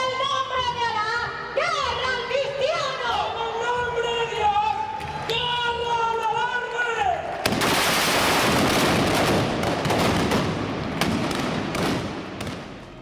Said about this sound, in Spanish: simbolizada por disparos de arcabuces.